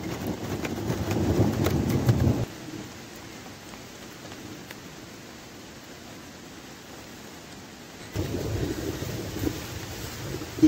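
Summer rain hisses steadily over a picnic area near caves, louder in bursts at the start and end with a quieter stretch between, and no voices.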